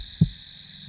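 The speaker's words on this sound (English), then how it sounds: "they hear the rapid heartbeat of their" Sound effect of a heartbeat: two deep, muffled thumps about three quarters of a second apart, close and isolated over a faint steady hum.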